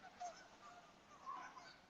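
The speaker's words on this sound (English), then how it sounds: "The geese are coming in." Geese flying in honk in scattered calls, several short nasal honks rising over a faint outdoor hush, distant and soft.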